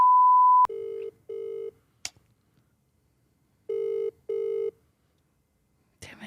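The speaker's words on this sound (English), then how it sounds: "I want to call Cooper off your phone." A phone call placed from a mobile: a steady tone, then two paired rings, a pause, and two more paired rings before a brief click and rustle as the line goes to voicemail; close and clear, with no talk.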